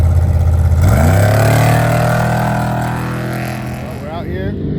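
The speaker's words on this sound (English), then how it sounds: "Another Brenthal race truck coming up." A Brenthal off-road race truck approaches across the desert, its engine loud and droning and climbing steadily in pitch as it nears and revs hard.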